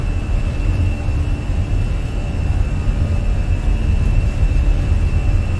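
Airbus A320 jet engines roar steadily through the takeoff roll in Microsoft Flight Simulator, a loud constant rumble with a high whine from the engines held underneath.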